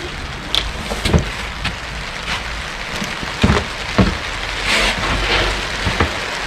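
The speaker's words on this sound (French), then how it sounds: "il pleut" Rain patters steadily outside a converted camper van, with irregular louder drips and taps striking the surface close by over a constant wash of rainfall.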